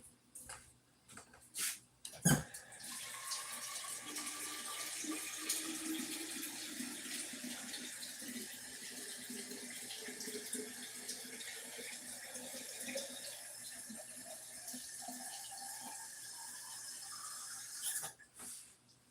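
Tap water pours steadily into a canning pot being filled for jars of pickles and tomatoes, a continuous close rush lasting about fifteen seconds, with a few clunks at the start and end and no talk.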